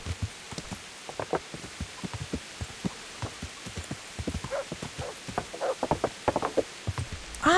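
Rain falls in Kingdom Come: Deliverance, a steady hiss accompanied by irregular soft thuds and patters, fairly even in level and without talk.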